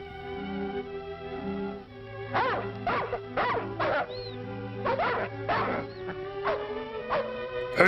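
A sled dog team barks and yips in short repeated bursts, several dogs near and loud, with whimpering tones between barks over a steady low background.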